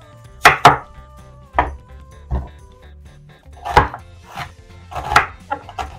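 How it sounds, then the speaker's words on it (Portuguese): An onion is chopped finely with a knife on a board, making sharp separate knocks in uneven bursts with short quiet gaps, close and fairly loud. "Vou utilizar uma cebola também e vou cortar ela bem picadinha."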